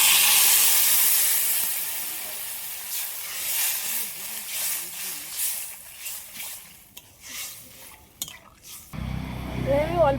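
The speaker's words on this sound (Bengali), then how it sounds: "এবার আমি পরিমাণ মতন জল দিয়ে দিচ্ছি।" Water poured into a pan of stirred, cooking potatoes, a hissing rush that fades into softer bubbling and stirring sounds, ending with a sharp sizzle.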